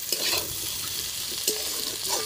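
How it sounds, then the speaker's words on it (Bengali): Potatoes frying with cauliflower in a pan for a Bengali posto curry, a soft continuous sizzle with scraping stir strokes of a spatula, close and moderately quiet. "এবার এগুলো একটু ভেজে নেবো।"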